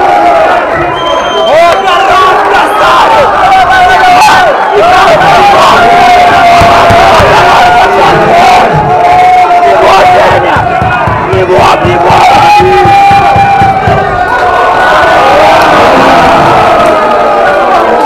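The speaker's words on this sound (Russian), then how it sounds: "Зрители кричат спокойной ночи" Spectators at a boxing fight shout and cheer nonstop, a loud dense roar of many voices with rhythmic chanting swelling and surging across the whole stretch.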